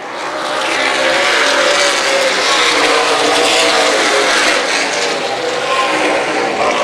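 Race cars at Dixie Motor Speedway roar in a pack, a loud continuous engine drone of several cars racing together with no break.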